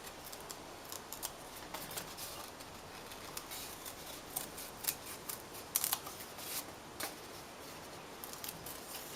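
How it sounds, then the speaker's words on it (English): Quiet, scattered snips of scissors trimming a paper wing shape, irregular clicks spread over several seconds with soft rustling between them. "and just trim it with scissors"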